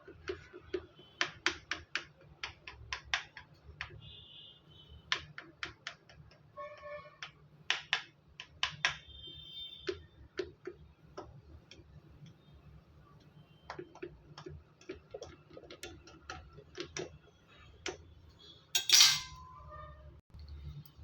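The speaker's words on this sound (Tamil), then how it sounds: "இப்போ ஸ்போக் வச்சு இந்த மாதிரி குத்தி விட்டுருங்க" Repeated sharp metal fork taps and pricks on raw homemade chicken pizza dough, an irregular run of close, crisp clicks with short pauses between them, heard alone with no talk.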